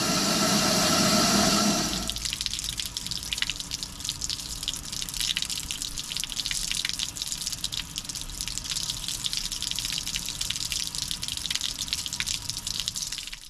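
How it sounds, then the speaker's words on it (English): Water drains steadily out of the hull outlets of a Sailfish 2360 boat fitted with a Suzuki 300hp outboard on launch day: a loud gush at first, then a continuous close trickling flow with drips. "as long as I don't have any water coming back at me and I have a good flow going out"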